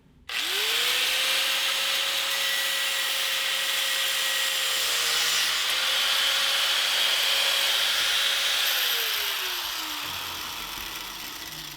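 A handheld power grinder trims metal during a Predator 212 small-engine build, a steady high whine running continuously for about ten seconds, pitch holding then dropping as it winds down near the end.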